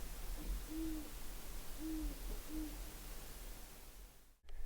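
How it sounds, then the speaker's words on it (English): Three soft, low owl hoots at sunset in Mule Canyon, faint and distant above steady outdoor background hiss and low wind rumble, spaced about a second apart. "there was an owl hooting somewhere above me."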